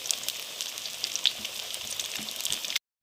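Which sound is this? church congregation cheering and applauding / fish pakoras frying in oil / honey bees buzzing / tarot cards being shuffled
fish pakoras frying in oil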